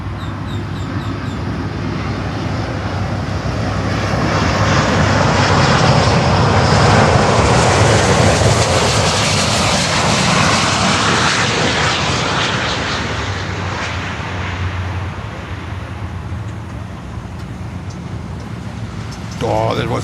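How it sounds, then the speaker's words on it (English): Qatar Airways Airbus A350-1000 from Doha landing at Miami airport, a loud, broad jet roar that swells to a peak mid-clip and slowly fades, with voices talking over it. "Qatar 350-1000 from Doha"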